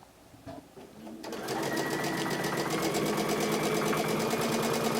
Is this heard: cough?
no